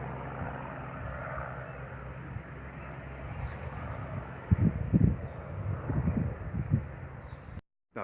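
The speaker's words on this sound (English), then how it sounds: "It's a white helicopter." Large white helicopter passing overhead outdoors, a steady low rotor and engine drone with a pulsing thump that grows louder partway through.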